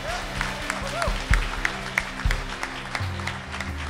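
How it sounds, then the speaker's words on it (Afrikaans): A church congregation claps after being invited to applaud, with scattered, uneven handclaps over a low hum of voices and some chatter, lasting a few seconds. "Kom ons gee hom met 'n hande klap, maar amen."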